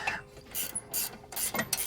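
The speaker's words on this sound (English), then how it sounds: "Wrench extension. Okay, let's loosen the other one." A wrench with an extension ratchets on a front brake bolt of a supercharged 2003 BMW E39 540i M Sport, giving a few quiet, close clicking and rasping bursts.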